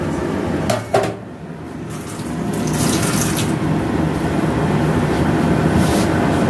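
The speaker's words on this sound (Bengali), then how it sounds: "আরও কিছুটা জল ঢেলে দেওয়া হলো" Water is poured into a pan of fish curry, making a steady, loud pouring and splashing that runs on continuously after a couple of brief knocks.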